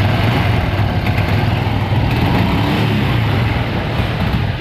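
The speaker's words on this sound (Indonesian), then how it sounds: "kita hidupkan motornya." Honda Revo fuel-injected motorcycle engine running steadily at idle, a continuous close, loud mechanical rumble with no clear rev rise, the engine having a stumbling, misfiring fault that keeps RPM from climbing.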